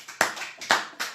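Clapping in a church during an Easter service acclamation, three sharp claps in an even rhythm, close and fairly loud, with no voices.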